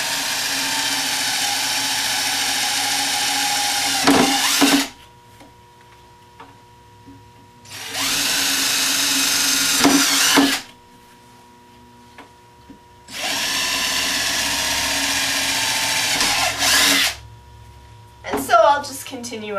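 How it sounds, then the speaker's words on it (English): Power drill with a step bit boring holes into a plastic garden barrel: three long, loud, steady whining bursts of about three seconds each, separated by quiet pauses, with brief rattles between. "I'm using a 5/8 inch, 3/8 inch strip bit, but the size really doesn't make that much difference."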